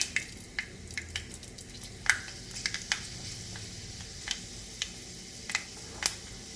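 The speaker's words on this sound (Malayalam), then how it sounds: "കടുക് പൊട്ടി തുടങ്ങി" Irregular sharp pops and crackles burst over a steady frying sizzle, seeds spitting in hot oil at close range with no talking.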